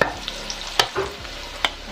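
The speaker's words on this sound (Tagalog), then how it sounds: "magpiprito naman tayo ngayon ng gulay" Sweet potato leaves sizzle steadily as they fry in a hot pan, with a few sharp clinks of a utensil stirring against the metal.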